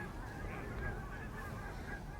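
Geese honk repeatedly and loudly at a hunting spot during a bird hunt, with a dense, continuous chorus of calls filling the scene and no talking.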